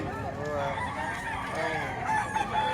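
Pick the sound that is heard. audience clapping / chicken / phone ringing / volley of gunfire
chicken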